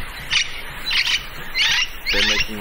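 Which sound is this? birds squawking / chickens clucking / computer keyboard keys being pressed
birds squawking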